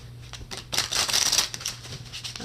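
A deck of cards being shuffled close by, a quick burst of riffling flutter with a few lighter shuffles after.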